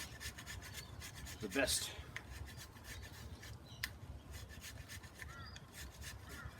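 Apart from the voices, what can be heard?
knife carving long shavings from old dry fatwood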